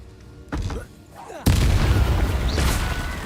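Incendio fire spell cast in Hogwarts Legacy, a sudden loud burst of roaring flame that swells and holds steady, following a softer whoosh a moment earlier.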